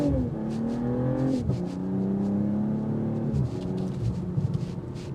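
BMW M340i accelerating hard without xDrive, its engine note climbing steadily through the gears with two shift drops, accompanied by a steady tire whir, heard from inside the car with no talking.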